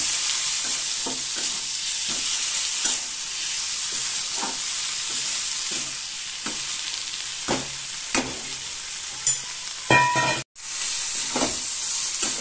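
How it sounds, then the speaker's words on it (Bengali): Boiled taro leaves go into a pan of frying spice paste for a prawn dish. Steady sizzling runs under repeated scraping stir strokes close by, with no talk. "এটা কষে গেছে, এবার আমি সেদ্ধ করে রাখা পাতাগুলো দিয়ে দেব।"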